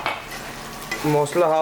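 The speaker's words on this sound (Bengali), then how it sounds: "ফ্লেভারের জন্য টমেটোটা দিয়ে একটু সুন্দর করে কষিয়ে নিচ্ছে।" Tomato sautéing in a pan for chicken ghugni, a soft sizzle with stirring scrapes that swells louder toward the end while a voice speaks briefly over it.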